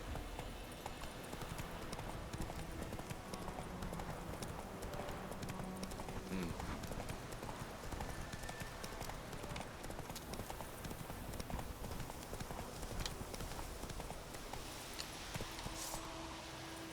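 Roach, a horse in The Witcher 3, gallops in a fast, steady clip-clop of hooves that runs continuously and loudly throughout, with no talk.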